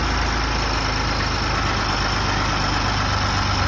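A 2018 Ford F150 engine idling after an Injen cold air intake install, a steady low rumble with an even pulse and no revving throughout.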